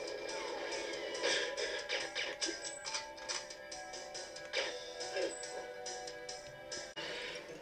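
Silenced PP7 pistol shots in the N64 game GoldenEye: a series of soft, sharp muffled pops scattered over about seven seconds against a steady bed of game music and ambience.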